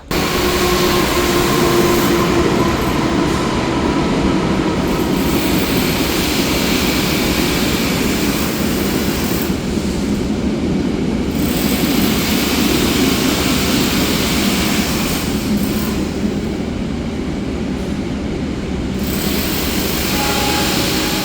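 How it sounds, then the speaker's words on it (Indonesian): The Malabar morning train, an older rake of coaches, rushes past in a sustained loud roar of wheels and engine that swells and fades in waves over about twenty seconds. "ternyata ada kereta Malabar pagi yang barusan lewat"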